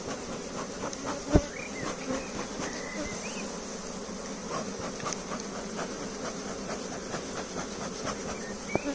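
Honeybees buzz around lifted hive frames, a dense close drone with individual insects whining past the microphone, and a sharp click or knock early on.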